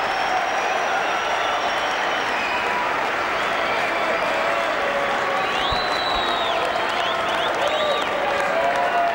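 A cricket crowd applauds a batsman reaching his fifty during a 2004 Test match against India in Australia, with sustained, dense clapping and cheering filling the whole stretch, while a commentator's voice runs underneath.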